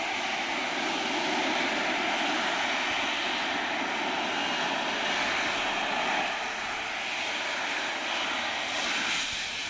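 A privately owned Harrier jet's engine roars continuously and close, a dense, even whoosh that swells slightly and holds for nearly ten seconds, with no talk.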